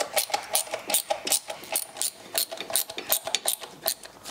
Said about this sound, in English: I'm gonna rotate around the engine a couple of times with a wrench just to see what happens with this pump